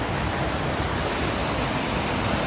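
A cold mountain stream flows in a constant, dense rush of water, heard up close and steady with no voices over it.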